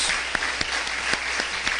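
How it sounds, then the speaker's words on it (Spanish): Church congregation applauding in welcome during a Sunday service, a steady dense wash of many hands clapping with no voices over it. "les enviamos un aplauso de bienvenida, de amor, de bendición en el nombre de Jesús"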